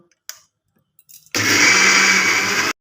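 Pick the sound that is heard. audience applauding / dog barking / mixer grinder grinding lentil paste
mixer grinder grinding lentil paste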